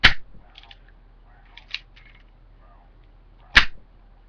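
An airsoft gun, missing a small wooden piece, fires one sharp loud crack, followed by a few faint clicks and rattles of cocking, then a second sharp shot near the end.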